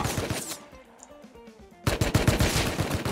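Automatic gunfire in the survival game Rust: a rapid burst of shots, a brief lull with softer distant pops, then dense sustained rattling fire close by.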